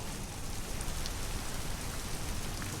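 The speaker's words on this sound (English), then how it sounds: "Poor Alice is always in the rain." Steady rain pours down in the video game Detroit: Become Human, a continuous, even hiss of falling water and drops on surfaces that holds the same level throughout, with no voices.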